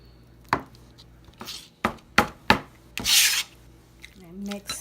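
Knife cutting through two hot, freshly boiled eggs on a board, several sharp chopping taps and short rubbing scrapes at close range, no talk.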